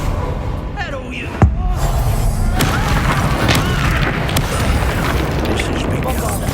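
An Expulso spell detonates in the Hogwarts Legacy video game: one loud, sudden boom followed by a crackling, rumbling tail of debris and battle noise, with a voice speaking over it.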